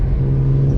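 BMW 328xi E90 with xDrive accelerating hard along a back road at around 40 mph, heard from inside as a steady, loud engine drone with a strong low hum and no speech.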